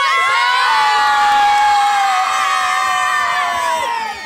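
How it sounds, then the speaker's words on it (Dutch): A television studio audience, including children's voices, erupts in loud, sustained cheering and whooping, with shouts ringing out together before easing slightly at the end. "En nu geef nu eens een nog groter applaus"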